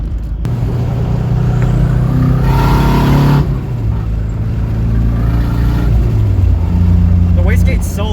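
Turbocharged KA24DE in a Nissan S14 with a custom exhaust, loud and close, its deep rumbling drone rising and falling through several throttle blips over roughly eight seconds, with a voice speaking over it.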